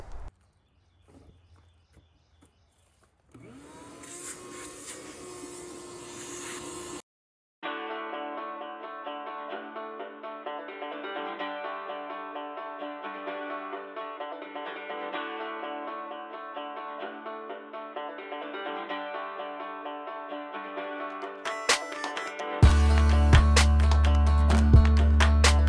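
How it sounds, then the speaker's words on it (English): A vacuum cleaner drones steadily for about fifteen seconds while cleaning out an old VW Rabbit pickup that sat in a barn for 25 years, preceded by brief handling noises and ending in louder clattering. "we'll grab the vacuum cleaner out real quick"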